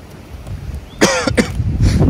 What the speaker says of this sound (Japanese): 咳き込んでるやないかい。